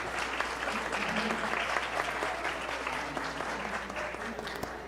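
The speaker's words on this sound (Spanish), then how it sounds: "démosles un aplauso a ellos también" Steady, dense applause from an audience at a university book launch for a neurosemiology book, filling the room evenly and holding a constant level throughout.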